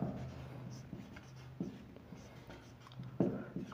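Handwriting an equation with a pen on paper, a quiet run of scratchy strokes and light taps in irregular rhythm, close up with no voices.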